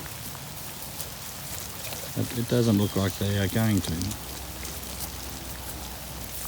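Rain falls on a cattle farm where bulls are being moved, making a steady broadband hiss throughout. Someone speaks briefly in the middle over the rain.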